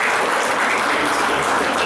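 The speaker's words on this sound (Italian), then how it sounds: "quindi facciamo un applauso." Loud, dense applause from an audience at a photo exhibition marking a 60th founding anniversary, a continuous wash of clapping that fills the whole two seconds.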